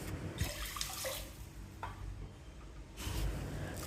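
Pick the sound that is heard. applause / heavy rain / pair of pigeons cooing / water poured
water poured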